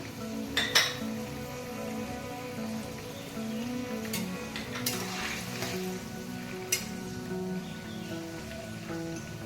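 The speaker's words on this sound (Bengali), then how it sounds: "কাজু কিশমিশগুলো দিয়ে দিলাম" Cashews and raisins sizzle steadily in hot oil in a pan while pineapple chutney is made, with a few sharp clinks of a utensil against the pan over the constant frying hiss.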